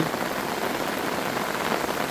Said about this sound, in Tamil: இப்போ பாருங்க இப்படி மழை போய் அடிச்சு ஊற்றுதுன்னு சொல்லி யாழ்ப்பாணத்தில் மழை வெள்ளம்தான்